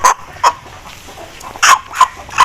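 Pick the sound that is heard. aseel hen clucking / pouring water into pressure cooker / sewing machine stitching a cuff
aseel hen clucking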